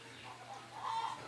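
Hens clucking on a small rural farm in Brazil, a short soft burst of a few clucks at moderate distance, rising briefly louder near the end over a quiet outdoor background.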